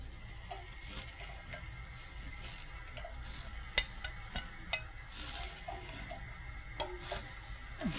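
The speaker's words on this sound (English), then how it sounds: "We'll give those a quick grill mark." Bread buns rubbed with olive oil sizzle softly on a hot grill, a quiet steady hiss scattered with small crackles and ticks.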